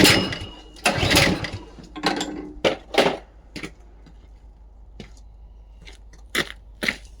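A snow blower engine that had tipped over is cranked repeatedly by its pull start, giving several short rough bursts that fail to catch, separated by quiet gaps, close and fairly loud.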